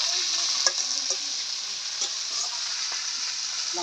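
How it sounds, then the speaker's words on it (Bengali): Fish heads fry in a pan with a steady, close sizzle, and a few light stirring knocks break through the hiss. "মাথাটা ভালো করে ভেজে নিতেছি।"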